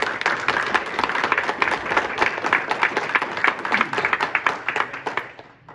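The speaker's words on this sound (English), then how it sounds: "Please refrain from claps or applause." Audience applause fills a public meeting about saving a stone fort bridge, a dense steady wash of many hands clapping throughout, with a few individual claps standing out near the end.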